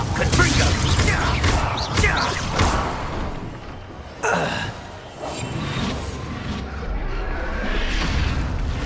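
Confringo explosive spell in Hogwarts Legacy, a sudden booming blast midway through, set among rumbling combat effects and thuds, with voices talking over parts of it.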